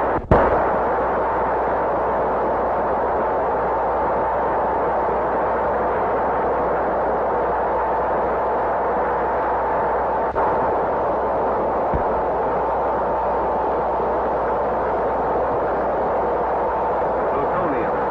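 The 1946 atomic bomb test at Bikini comes through as one long, loud, steady roar after a short initial burst. It sounds like a dense rumbling wash that holds without letting up, as heard on an old film soundtrack.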